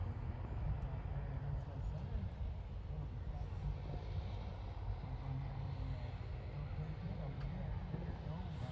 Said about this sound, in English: Golden Knights carrier plane back on the ground.